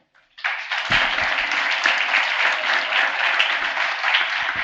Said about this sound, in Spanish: Recibámosla con un fuerte aplauso, por favor.